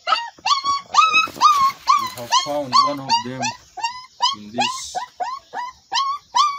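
Puppies dumped in a toilet pit whimper and yelp over and over in high, pleading cries, close and loud, while someone speaks briefly among them.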